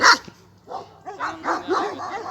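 Large Anatolian shepherd dogs bark and yip in a short run of repeated calls, loud and fairly close, with a brief gap after the first bark.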